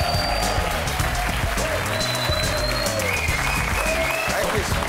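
A studio audience gives sustained, dense applause on a Dutch talk show, loud and continuous throughout, with a voice speaking over the clapping.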